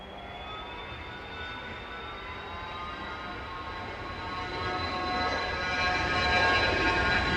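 An airliner taking off from East Midlands Airport, heard as a broad jet engine roar with a high whine that builds steadily louder over several seconds, heard alone without talk.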